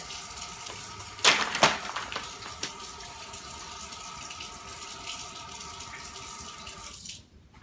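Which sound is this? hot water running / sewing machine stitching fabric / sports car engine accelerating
hot water running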